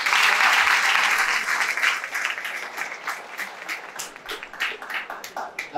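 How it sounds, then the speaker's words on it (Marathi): Audience applause at a hackathon prize ceremony, honouring prize-winning groups: steady, dense clapping from a crowd that starts full and gradually thins into looser, scattered claps. "त्यांच्यासाठी एकदा टाळ्या वाजवा."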